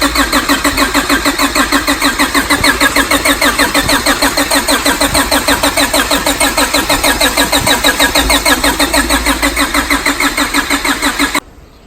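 The engine of a 1997 Honda Civic hatchback with an H2B swap and a faulty injector is running, making a loud, steady, rapid ticking rattle over the engine note that stays even throughout before it cuts off near the end.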